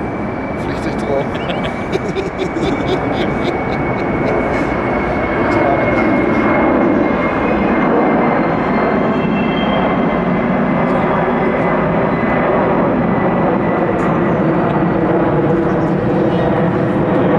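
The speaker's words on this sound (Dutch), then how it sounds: "Vliegtuig erop." A fixed-wing airplane passing overhead, its engine roar loud and continuous throughout, heard outdoors with cycling noise around it and no speech clearly audible.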